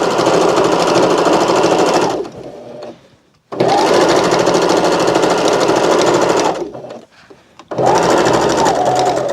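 Sewing machine stitching a seam on an ottoman slipcover, loud and close, running in long continuous bursts with short pauses between them.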